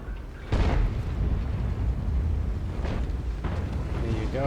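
Tank gunfire in World of Tanks, a loud booming shot near the start followed by two fainter blasts later, over a constant engine rumble.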